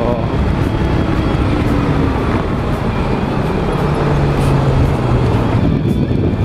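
A truck passes close to a Yamaha Ténéré 250 motorcycle on the road. Its rumble sits inside a steady, loud wash of road and wind noise throughout, with a person talking over it.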